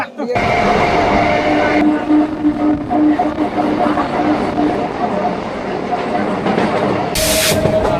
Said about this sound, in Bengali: আমাদের ট্রেন কিন্তু এখন কাকদ্বীপ স্টেশনে ঢুকছে